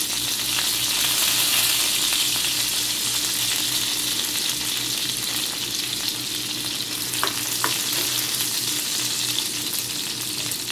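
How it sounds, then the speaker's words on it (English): Chopped onion fries in a hot pan for burgers, giving a loud, steady close sizzle with a few clicks of stirring, no voices. "I'm gonna cut up this onion. Fry it up for her real quick."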